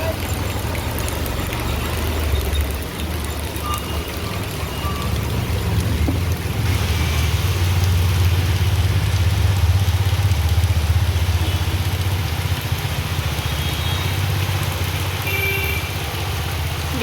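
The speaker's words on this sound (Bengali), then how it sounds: "এত বৃষ্টি হচ্ছে" Heavy rain pours down steadily outside, a dense, continuous wash of hiss and patter that stays loud for the full stretch, with faint voices mixed in.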